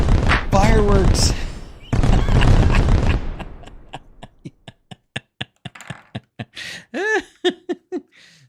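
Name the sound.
fireworks exploding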